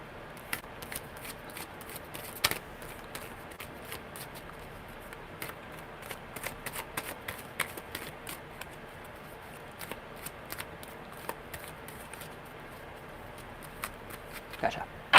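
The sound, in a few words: tarot cards being shuffled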